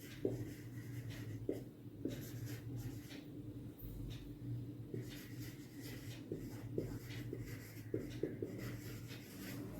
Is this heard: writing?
yes